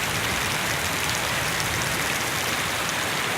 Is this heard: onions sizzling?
no